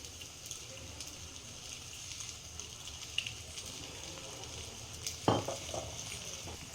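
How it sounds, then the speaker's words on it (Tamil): Bottle gourd vada frying in oil in a pan, a soft steady sizzle with faint crackles and one brief clatter of a utensil near the end. "மூடி போட்டு ஒரு 5 மினிட்ஸு நம்ம ஃப்ரை பண்ணிக்கலாம்."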